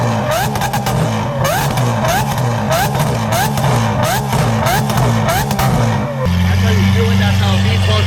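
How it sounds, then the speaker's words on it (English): Lamborghini SVJ with a newly fitted exhaust revving hard, repeated sharp throttle blips and rising engine howls in quick succession, then settling into a loud steady droning note near the end. "it's going to cut to me showing you the new sound of the SVJ"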